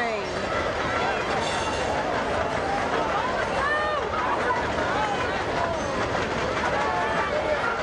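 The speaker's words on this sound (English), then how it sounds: "Probably won't be able to hear now because of the train." A train passes near a high school eight-man football game, its rumble and clatter running steadily underneath loud crowd chatter and a commentator's voice throughout.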